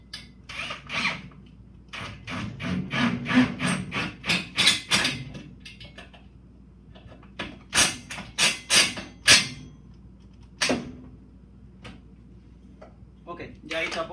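A Tapcon concrete screw is driven into cement with a ratchet and small socket, giving bursts of rapid, close ratcheting clicks in several runs separated by short pauses.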